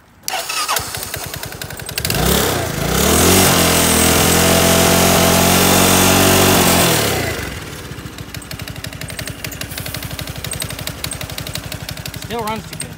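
Small engine running on dish soap in place of oil, rapid popping idle that revs up into a loud sustained roar for several seconds, then drops back to a rough, fast sputtering idle, close by.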